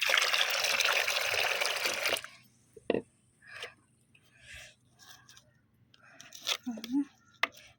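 Water poured and stirred into a fermented rose fertilizer mix, a loud steady rushing splash for about two seconds, then quieter scattered stirring and sloshing sounds with a few sharp knocks.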